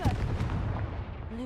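In Hogwarts Legacy, a Confringo spell bursts into a deep, rumbling fiery explosion. One heavy boom rolls out loud and close, then fades as a voice briefly sounds at the end.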